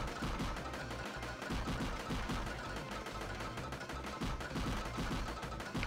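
Sustained rapid gunfire in the robot combat video game Guardian Steel, loud and dense bursts running continuously throughout with no talk over it.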